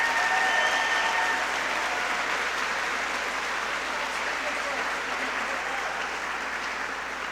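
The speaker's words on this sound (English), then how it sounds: "And I want everybody to give a round of applause to your 4A, 6th place best high jumper in the state of Texas, Landry Brown." Steady applause from a banquet crowd at a high school athletic banquet honoring a sixth-place state high jumper, dense and sustained, gradually tapering slightly throughout.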